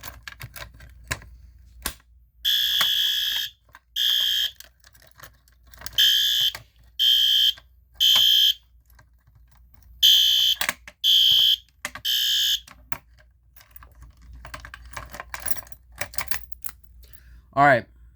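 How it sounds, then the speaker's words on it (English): A fire alarm system sounds during a test: loud, close bursts of harsh electronic tone repeat in an uneven on-off pattern, with clicks and a person talking in the gaps between bursts. "let's try this again with this fire alarm thing"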